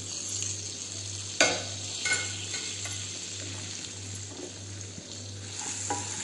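Chopped onion sizzles steadily in a hot pan for a paneer dish, with a spoon stirring and scraping through it and one sharp clank of utensil on metal; no voices.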